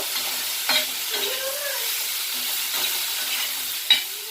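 Chilachi bhaji vegetables are stirred in a pan with a few scraping strokes of a spoon over a soft, steady sizzle.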